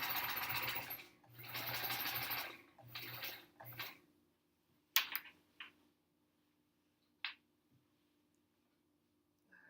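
A sewing machine stitches a quilt top in three or four close, whirring bursts with brief pauses between them, then stops, leaving a few faint clicks and handling knocks over a quiet room hum.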